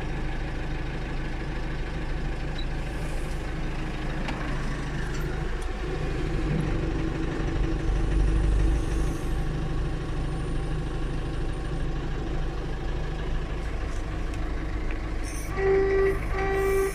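A truck engine runs at a steady, loud diesel idle close by, its deep, constant rumble continuing throughout with a faint tonal whine joining near the end.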